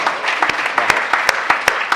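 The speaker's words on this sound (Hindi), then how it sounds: "एक बार इस रोहित के सम्मान में जोरदार तालियां हो।" Applause at a Hindi comic poetry gathering in Indore, a crowd clapping with several sharper individual claps standing out in an uneven rhythm over two seconds.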